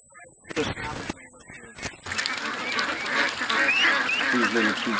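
Young ducks give soft honking calls against steady broadband background noise. The calls come after a few sharp clicks and some brief talk at the start.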